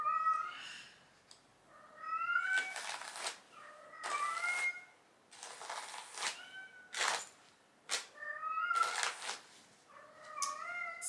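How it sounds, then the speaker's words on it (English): Cats meowing in a quiet room, a string of repeated, close, clear meows with short pauses between calls. "Do you hear the cats?"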